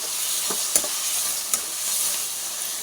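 A spoon stirs chopped tomatoes into okra curry in a hot pan, with a steady sizzle of frying underneath and a few sharp scrapes and clacks against the pan.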